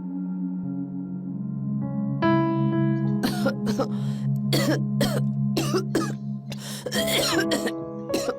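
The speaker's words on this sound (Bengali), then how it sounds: "এত কেন কাশছো?" A woman coughs at night in a string of harsh, rapid bursts, about eight or nine close hacks coming in clusters over a steady tonal background hum.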